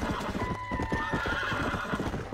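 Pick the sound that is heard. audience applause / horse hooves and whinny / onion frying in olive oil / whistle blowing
horse hooves and whinny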